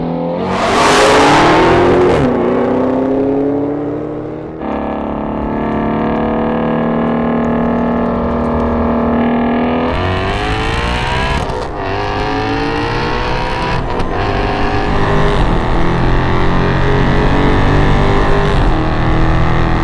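Hellcat Dodge Charger and a supercharged Ford Mustang GT350 street racing, with loud engines revving and roaring hard through rising gear pulls, with supercharger whine and a sustained close roar throughout.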